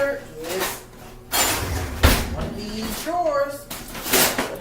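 Kitchen drawers slide open and shut with wooden knocks and rattling contents during a hurried search, loud and close, while a person talks over the clatter.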